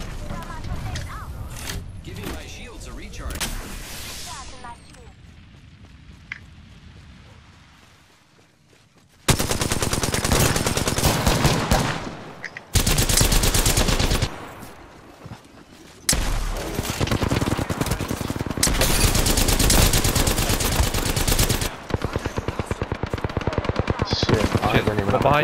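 Automatic gunfire in the battle royale shooter Apex Legends comes in loud, rapid bursts of several seconds each, with quieter gaps between and players talking at times.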